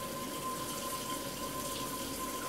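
Water drains steadily from a food container in a kitchen during meal prep, a continuous soft rushing wash with a faint steady tone running under it and no talking.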